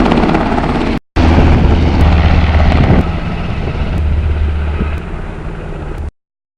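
Loud, close helicopter rotor and engine noise from an Air Guard helicopter at a Kansas National Guard facility on Forbes Field near Topeka, continuous after a brief cut and easing slightly toward the end.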